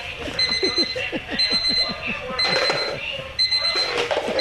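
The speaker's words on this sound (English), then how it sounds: "These alarm clocks are set all over her room, and she has no idea where they are?" Several alarm clocks ring at once in a dark bedroom, bursts of bright electronic beeping repeating in short loud cycles, with a person talking underneath.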